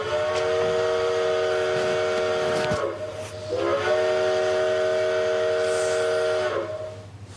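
A train sounds a long steam whistle twice, loud and sustained over a rumbling hiss of the passing train, with a brief dip between blasts.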